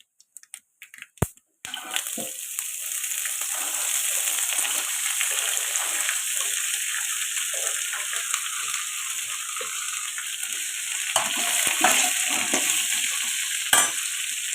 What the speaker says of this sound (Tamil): இப்போ இந்த ஸ்டேஜில் நம்ம இந்த அரிஞ்சு வச்சுருக்கிற கேரட்டும் பீன்ஸையும் கொட்டணும்